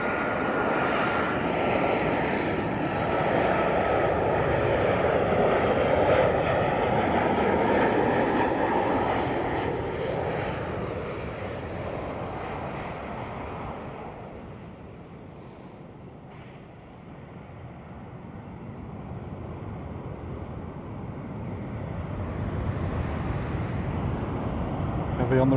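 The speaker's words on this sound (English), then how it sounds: "Heavy on the reversers there." A Jet2 Boeing 737-800 landing at Lanzarote Airport with heavy reverse thrust, a loud broadband jet roar that swells then fades and builds again, with a person talking over it.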